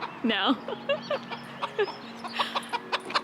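Chickens clucking on a homestead property, short clucks and squawks repeating through the clip while a person talks over them nearby; a dog can be heard chasing the birds.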